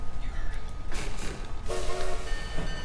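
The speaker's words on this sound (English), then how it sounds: "Choo choo train engine noise." Choo choo train engine effect in the video game Rocket League, a train-like chugging and horn toot over game noise, with a voice talking over it.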